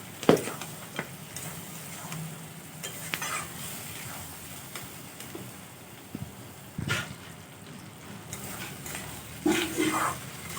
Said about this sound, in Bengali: এবার একটু ভালো করে নাড়াচাড়া করে নেব।